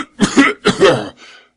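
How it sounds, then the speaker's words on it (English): A voice performs a person's cough, delivered as two harsh, close coughing bursts followed by a fainter rasp, with no other sound around it. "How long have you had that cough?"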